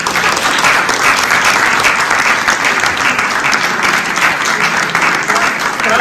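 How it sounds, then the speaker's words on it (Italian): A room full of people applauds warmly at the close of a training workshop session, continuous even clapping at full strength from start to finish, with no voices breaking through. "questo bel applauso"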